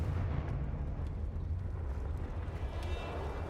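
Confringo fire spell detonating in Hogwarts Legacy, a deep rumbling blast that holds as a steady, loud roar through the whole stretch with no clear separate bursts.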